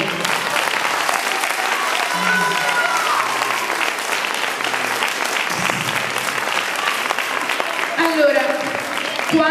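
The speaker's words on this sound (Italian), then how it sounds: "applaudite." An audience claps through a sustained burst of applause lasting about nine seconds, loud and even throughout, with a few voices rising near the end, at a school mathematics theatre show.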